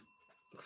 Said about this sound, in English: Fucking damn bell.